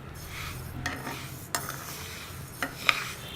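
A utensil stirs roasting urad dal in a pan over a medium flame, with soft scraping and rustling plus a few light metallic taps against the pan.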